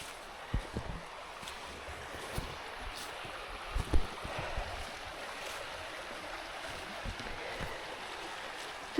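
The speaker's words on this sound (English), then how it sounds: "Just a peaceful little river there." Steady soft rush of a river flowing beside a wooded trail at Ocqueoc Falls, Michigan, in autumn, a faint continuous wash with a few light knocks and rustles nearby, no talking.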